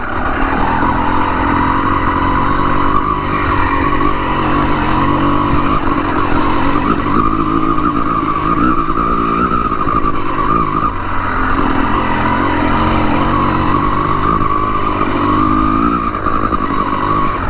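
A 250CR enduro motorcycle rides through woods, its engine holding a loud, continuous drone with small rises and dips in revs throughout, and no voices.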